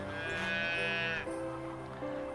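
A cow on a farm gives a long, loud, drawn-out moo close by, then falls quiet.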